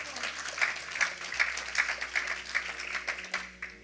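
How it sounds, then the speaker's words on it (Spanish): A church congregation applauds, steady dense clapping from a crowd that holds for a few seconds, with a low hum beneath. "Aplauda al Rey de Reyes."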